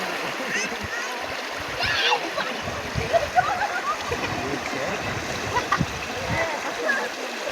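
Rushing water with scattered splashes and a bigger splash as someone dives in, voices faintly mixed in with the strongly flowing water outdoors at a beach.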